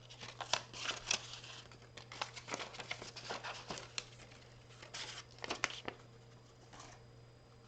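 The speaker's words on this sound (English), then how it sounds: "Now what I did was I just trimmed it down to fit my card front" Scissors trim a stamped card paper to size, close, crisp snips and rustling paper in an uneven series of short cuts throughout, fairly quiet overall.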